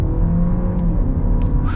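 A 2021 Jeep Cherokee Latitude Lux with a turbo engine, in sport drive mode, accelerates with a steady, loud engine drone and rumble that holds throughout, with no talking.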